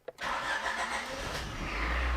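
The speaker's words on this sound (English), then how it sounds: "We're going to try starting this car." A Honda Prelude engine cranks briefly and catches, then settles into a steady, close-up running rumble with a rough idle and no talking.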